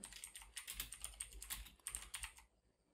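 Keystrokes on a computer keyboard while a line of text is typed into a file during a Windows command-line tutorial, a brisk irregular run of clicks for about two and a half seconds before falling quiet.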